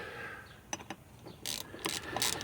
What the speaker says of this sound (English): grab the dang foreign socket, tighten up the rest of them